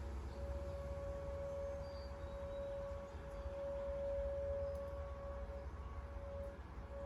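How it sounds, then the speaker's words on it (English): Tornado warning siren during a test, a single steady wailing tone held for the whole stretch, heard from a distance over low background rumble, with no voices. "the soothing sound of a tornado siren going off."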